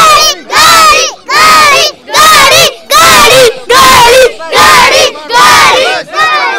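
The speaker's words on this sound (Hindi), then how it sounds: "बच्चे खुद उत्साहित होकर यहाँ पर आके घड़ी घड़ी चिल्ला रहे हैं।" A crowd of children at an NCP election rally chanting the slogan "ghadi ghadi" in loud, rhythmic bursts, about eight shouts separated by short pauses.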